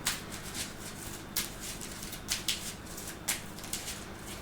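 Cards shuffling into a deck during a Marvel Champions card game, a series of short papery riffles and flicks in irregular bursts, close and fairly quiet, with no talking.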